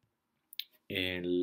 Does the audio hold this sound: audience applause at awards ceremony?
no